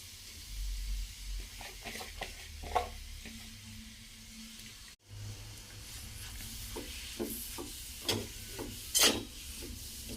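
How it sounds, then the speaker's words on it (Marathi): Grated carrots sauté in homemade ghee over low heat, giving a faint sizzle broken by repeated scraping and stirring strokes of a spoon against the pan, close and quiet. "गाजर मस्त परतून घ्यायचं"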